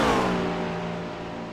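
McLaren and BMW GT3 race cars on a circuit during a French GT3 Cup race, a loud engine drone that fades slightly as the cars pass.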